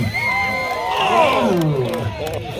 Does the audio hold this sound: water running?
no